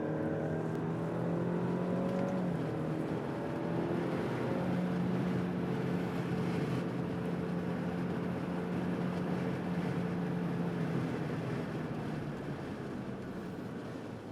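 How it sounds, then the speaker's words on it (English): A 2023 Alfa Romeo Stelvio Veloce compact crossover lapping a racetrack, its engine droning steadily with rising and falling pitch through gear changes, loud and continuous throughout. "it is fun to drive this small CUV on a racetrack"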